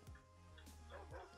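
Dogs bark and yip in Minecraft, two or three short faint barks over a steady low game background.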